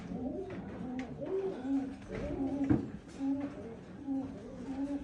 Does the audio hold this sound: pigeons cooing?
yes